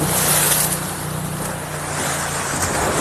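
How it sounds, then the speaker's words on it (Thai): Sea waves wash onto Bang Saen beach, a continuous broadband surf roar with wind, loud and close, rising and easing slightly, no talk. "คลื่นแค่นี้"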